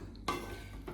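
Vegetables stirred in a pan on a gas stove, with a short scraping swish and a faint sizzle in a brief close burst.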